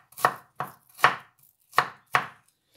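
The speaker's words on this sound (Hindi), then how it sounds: "तो यहाँ मैं बारीक बारीक चॉप कर लूँगी प्याज को भी" A knife chops onion finely on a board: five sharp, close, evenly spaced strikes with short silences between them and no voices.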